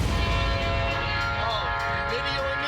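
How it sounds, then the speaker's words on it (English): A train passes a road crossing in Florida, a loud continuous rumble with tonal horn-like bands sustained throughout, close by. "There goes the train."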